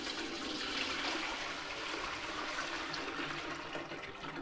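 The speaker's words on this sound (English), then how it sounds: "then I'm going to add the remainder of that dye water" Dye water pouring into a pot on a high burner for dyeing wool yarn, a steady, close rushing splash of liquid that holds unbroken for several seconds with no talk.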